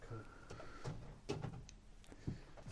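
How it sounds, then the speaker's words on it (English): The door of a 37 ft American RV with three slide-outs is pulled shut, giving a few soft knocks and latch clicks at close range amid faint background sounds. "could close that door as he comes in"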